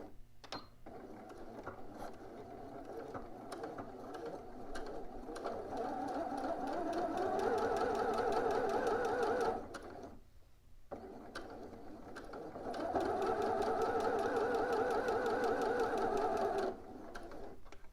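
A sewing machine stitching a bodice front to its side front, running in two long sustained bursts of steady rapid needle chatter separated by a brief pause, fairly close and with no talking.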